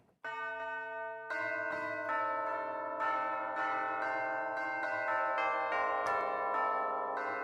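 Tubular bells from the Iconica Sketch orchestral app on iOS ring out in a sustained, shimmering sequence of struck notes, each new strike layering over the lingering tones with no voices.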